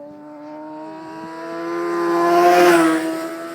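Motorcycles sweep through a corner of the NOLA race track at speed, their engine whine rising and swelling to a loud peak around the middle of the pass before easing off, with harmonic revving tones sliding as the bikes accelerate out.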